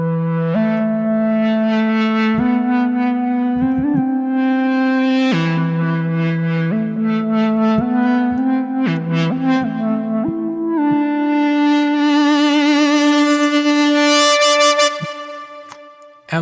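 A bright synthesizer pad called Yosemite plays a slow sequence of sustained chords, each swelling with airy shimmer, growing brighter and denser toward the end before fading.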